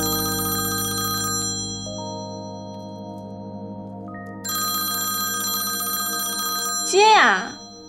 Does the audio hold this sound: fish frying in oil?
no